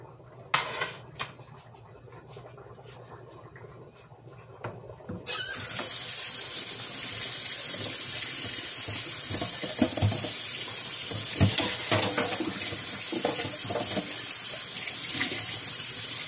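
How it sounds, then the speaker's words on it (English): Tap water runs steadily into a kitchen sink while utensils are washed, a continuous broadband rush starting after a few seconds of quieter clinks and handling, close and loud with small bumps of dishes throughout. "I'm washing my utensils or washing something that I'm using."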